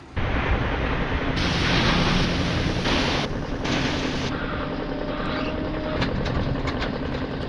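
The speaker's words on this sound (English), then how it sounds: "And it is pouring down." Heavy rain pours down at a farm weighbridge while a trailer waits for a load of wood chips, a dense, steady roar that fills the whole clip with only slight shifts in intensity.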